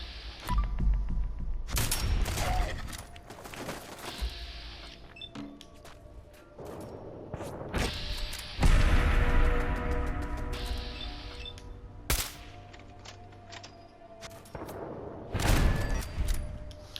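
Turret gunfire in a first-person video game sounds as loud, dense bursts of shots in several volleys, layered over a low droning hum and other game effects, with no speech.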